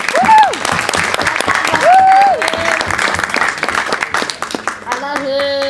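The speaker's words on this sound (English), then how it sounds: "let's give one more round of applause for Michael Root." A competition audience claps and cheers for a performer, Michael Root, at a Texas Spotlight event: steady, close applause with whoops rising over it, then a voice begins speaking as the clapping thins.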